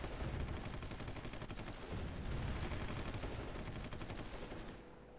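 An artillery bombardment in the strategy game Supreme Ruler Ultimate: a dense, unbroken barrage of rapid booms and crackles, fairly quiet and steady, thinning out at the very end.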